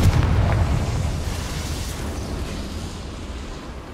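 A Confringo fire-blast spell explodes in the Hogwarts Legacy video game, a loud broadband boom that fades into a long rumbling tail.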